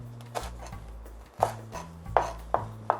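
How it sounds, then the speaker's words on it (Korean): A knife cutting red chillies into thin strips on a board, giving about five separate soft taps spaced unevenly over a low background hum. "홍고추는 어, 이렇게 채를 썰어 놓으면 돼요"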